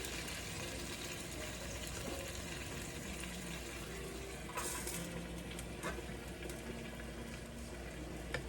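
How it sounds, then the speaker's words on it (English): Bacon tomato sauce simmering in a pan, a continuous soft bubbling and sizzle that stays even and quiet throughout, with no voices. "After adding the sauce, simmer the sauce for a while."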